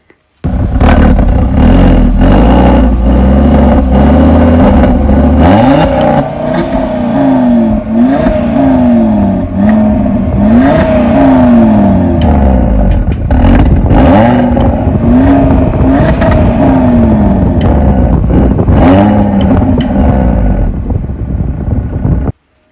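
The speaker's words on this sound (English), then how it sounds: "Yeah, I know they channeled a fake engine noise into the cabin, but again, not bad" Audi RSQ3 engine revving hard and accelerating, a loud, continuous drone whose pitch climbs and drops through several gear changes, heard from inside the cabin with wind rush and no talk.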